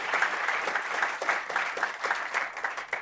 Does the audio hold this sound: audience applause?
yes